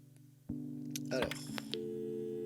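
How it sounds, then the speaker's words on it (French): Telephone tones from the video game Kathy Rain: a steady tone starts abruptly, then a short run of chirpy dialing beeps plays and a sustained tone continues to the end, loud and close. "On va appeler Bobby avec le téléphone."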